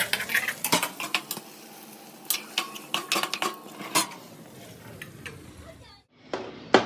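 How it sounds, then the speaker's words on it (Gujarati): A metal spoon stirring dosa batter in a steel bowl, with repeated sharp clinks and scrapes against the rim in irregular bursts, then a brief pause and a few more knocks. "એને સરખી રીતે આપણે હલાવી લઈએ."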